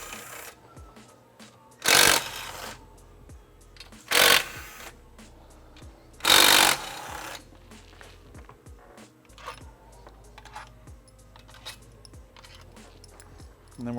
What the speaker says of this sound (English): now we're gonna remove the 4 10mm bolts that hold the fuel rail on